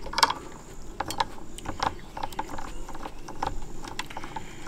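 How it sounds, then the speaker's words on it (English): Cigar box guitar strings being unwound at the tuning pegs, a series of small clicking, ratcheting ticks in an irregular rhythm, close and fairly quiet with no talking. "But I'm going to unwind each one and take them off."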